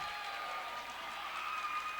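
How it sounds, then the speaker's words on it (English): Bernie fans on their feet at a high school basketball invitational final give a steady wash of clapping and cheering, a sustained crowd roar with a faint voice underneath. "Bernie fans now rise to their feet, giving their players a much deserved round of applause"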